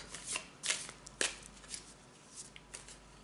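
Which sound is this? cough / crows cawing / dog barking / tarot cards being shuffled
tarot cards being shuffled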